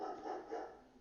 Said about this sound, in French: On va essayer d'inclure les jappements à notre expérience.